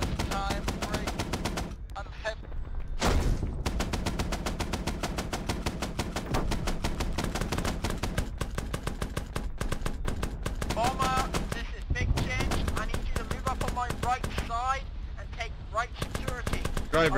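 M48 Patton tank in a Vietnam-era milsim video game: sustained rapid machine-gun fire rattling almost without pause, loud and close, with a couple of heavier bursts and voices calling out over the shooting.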